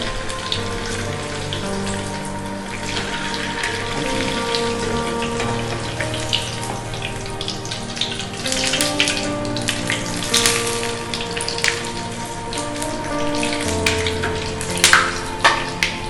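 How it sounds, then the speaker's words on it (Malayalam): Bread pocket shawarma frying in hot oil, a dense, steady crackle and sizzle like rain on a surface that grows busier toward the end, close up with no talk. "ഇനി നമ്മളിത് ഫ്രൈ ചെയ്തെടുക്കാം"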